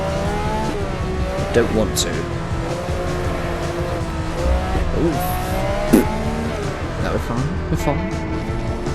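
A 1967 Le Mans Bugatti race car in a racing video game, its engine revving and rising and falling through gear changes while tires squeal repeatedly through corners, with people talking over it.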